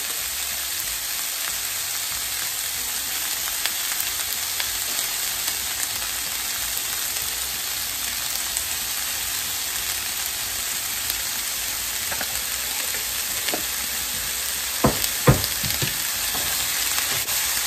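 Sausage and peppers fry in a pan, seasoned with salt and pepper, in a gluten-free dish with no sauce. A steady, close hiss of sizzling runs throughout, with a few sharp pops and clicks near the end.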